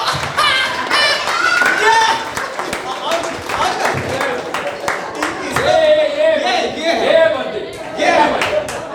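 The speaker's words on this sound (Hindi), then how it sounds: "तालियां" An audience claps in scattered, irregular bursts of sharp slaps under loud, continuous talking voices, the clapping rising and falling rather than forming a steady ovation.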